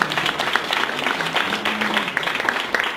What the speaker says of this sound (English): let's give David one last round of applause.